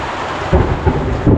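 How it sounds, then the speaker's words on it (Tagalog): Thunder rumbles in short low swells over a steady hiss of rain, loud and close throughout with no voices. "Yan, kumukulog."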